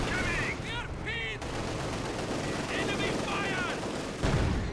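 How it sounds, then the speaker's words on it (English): MG42 machine gun firing in the World War II strategy game Company of Heroes 2, dense rattling gunfire mixed with battle noise and distant explosions, with voices shouting briefly over it. "MG42 opening up on the stolen MG42, getting the suppression."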